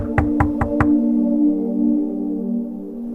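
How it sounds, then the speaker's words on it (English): Four quick, heavy knocks bang on a door in a steady rhythm, close and loud, followed by a lingering low ringing tone that slowly fades. "someone bangs on your door."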